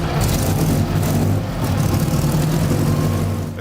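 Restored 1924 Mercedes Targa Florio with a supercharged compressor engine runs steadily nearby, a loud continuous mechanical drone with a dense low rumble and no talk over it.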